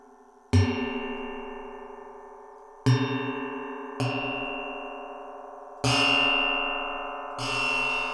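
A Karplus-Strong resonator synth with dispersion produces metallic, gong-like struck tones: five separate strikes, each with a bright attack and a long ringing, shimmering decay, heard alone with no voices.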